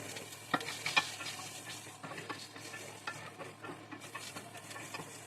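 Onions caramelizing in a skillet over medium-high heat, a soft, quiet sizzle broken by light scraping and clattering as they are stirred around.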